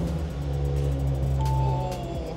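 An Audi RS4's engine rumbles close by with a steady, deep idle hum; a brief rising tone appears partway through, and no voices are heard.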